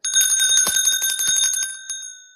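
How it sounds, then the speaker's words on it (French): A small bell rung in a rapid, loud burst of bright metallic strikes right up close, then a final single ding left ringing out and fading. "À quoi sert la cloche?"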